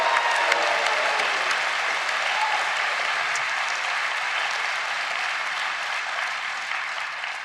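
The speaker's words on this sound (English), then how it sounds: "let's give these first-timers a huge round of applause and welcome" A large crowd at a Liberal Party convention breaks into sustained, thick applause for first-time attendees, a continuous roar of clapping that stays fairly loud and even before tapering gently.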